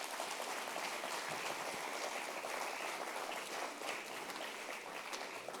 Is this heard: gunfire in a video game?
no